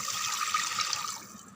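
Water poured into rice while cooking ven pongal, a steady splashing rush that tapers off near the end, close and moderately loud with no voices.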